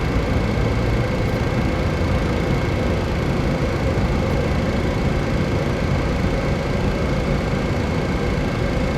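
A Boeing 707 jet engine in Microsoft Flight Simulator 2024 spools up during engine start. It is a loud, steady broadband roar with a rumbling low end and a faint high whine throughout, and there is no talk.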